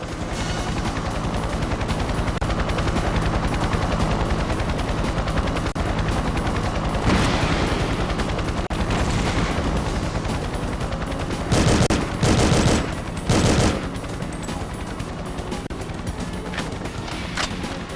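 Attack helicopter boss fight in the video game The World Is Not Enough: loud, continuous rattling gunfire over a droning helicopter engine, with several sharp, heavier bursts near the end.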